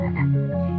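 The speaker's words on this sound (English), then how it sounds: "The frogs covered the earth and fell from the sky." Frogs croak in a close, steady chorus, part of a Bible story of Moses and Pharaoh told at a church creative arts camp, with layered low croaking tones filling the short clip without pause.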